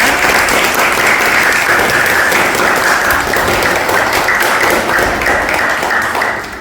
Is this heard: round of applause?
yes